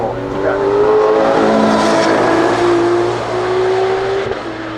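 A race car pulls out onto the track at the 2024 Goodwood Festival of Speed, its engine loud and close, revving and rising in pitch with faint voices underneath.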